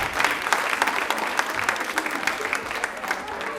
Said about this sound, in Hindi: बट एक बार अपनी तालियां जोरदार बजा दें प्लीज